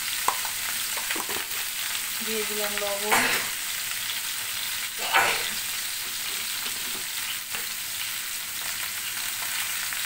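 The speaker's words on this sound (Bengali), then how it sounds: "ওই কড়াইয়ে আমি আলু আর ফুলকপিটা ভেজে নিব।" Potatoes and cauliflower fry in a wok of hot oil in a home kitchen, giving a steady, close sizzle with occasional scraping stirs; a voice speaks briefly over the frying.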